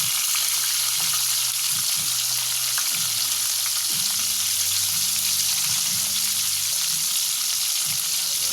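Milkfish (bangus) fries in hot oil in a crowded pan, giving a steady, loud sizzle with crackling pops throughout and no talking.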